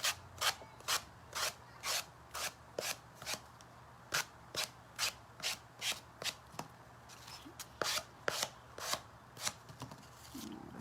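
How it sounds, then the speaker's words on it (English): Sandpaper rubbed along the edges of a decoupaged watermelon napkin on a crackle-painted surface: about twenty brisk, evenly spaced rasping strokes, close and clear, with no talking. "So just sand the edges."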